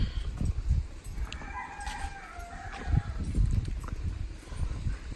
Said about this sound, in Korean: 여기는 닭과 오리가 사는